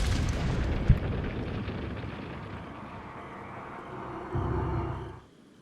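A cannon in Resident Evil 4 fires to blast open a gate: a sharp booming report followed by a long rumbling roar of debris that swells again briefly before cutting off.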